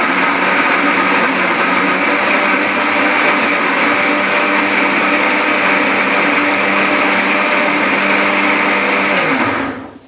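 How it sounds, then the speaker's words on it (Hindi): A kitchen mixer grinder purees tomatoes, a loud, steady high-pitched whirring drone running alone for about ten seconds before winding down abruptly at the very end. "चलो तुमको दिखाते हैं कि टमाटर को कैसे पीसते हैं मिक्सी में।"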